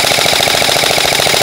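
A G&G airsoft rifle with a G2 gearbox fires on full auto, a loud, close, rapid buzzing rattle of shots running unbroken through the whole burst.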